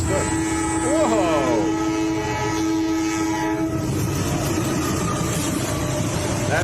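A train rolls past with a long, loud horn blast early on and a rumbling rail clatter throughout, while a person exclaims in surprise.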